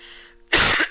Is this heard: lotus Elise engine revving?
no